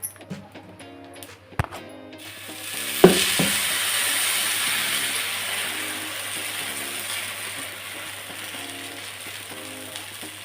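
Adai dosa batter hits a hot dosa griddle with a soft splat, then a steady, fairly loud sizzling hiss that lasts to the end, under light background music.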